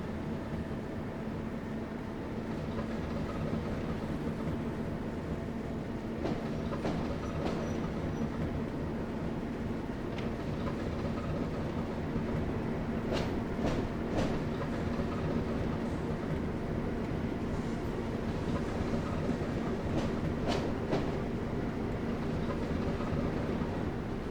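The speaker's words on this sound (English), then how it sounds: "It's such a cute little train, isn't it?" A small train running on rails in the Train Sim World game, a steady rolling rumble with faint clicks and clanks from the track throughout, heard alone without talk.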